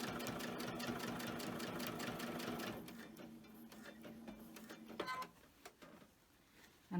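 A sewing machine stitching through thick quilt batting while making Easter tree decorations runs in a fast, steady whirring rhythm for about three seconds, then slows and stops, leaving a few scattered clicks and handling sounds.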